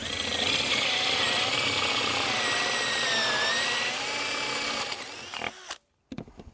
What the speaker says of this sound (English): using a 35mm fastener bit, we're going to put this in over here, and we're going to drill out a hole